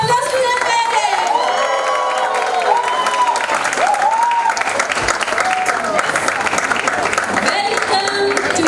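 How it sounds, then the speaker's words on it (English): Loud, dense applause from a large crowd fills the whole stretch, with cheers and whoops rising over the clapping, at a kindergarten annual day celebration. "Please give a huge round of applause to them parents."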